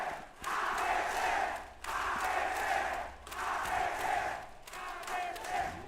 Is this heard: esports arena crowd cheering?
yes